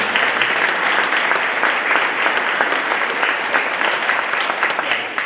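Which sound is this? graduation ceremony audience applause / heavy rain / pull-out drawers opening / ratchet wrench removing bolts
graduation ceremony audience applause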